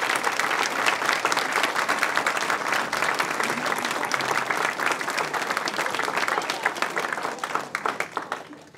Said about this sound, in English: asking them to rise for a well-deserved round of applause